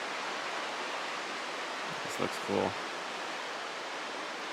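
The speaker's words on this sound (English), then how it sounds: "This is the 10 Mile River. This is a proper fishing river." Steady broadband rush of the 10 Mile River flowing along the Appalachian Trail, continuous and even throughout, with someone briefly speaking over it partway through.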